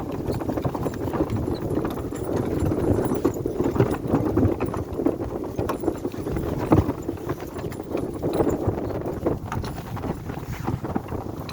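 Slow draft horses walk steadily, their hooves clip-clopping in a loose repeating rhythm at moderate distance, with wind buffeting the microphone throughout and no talking.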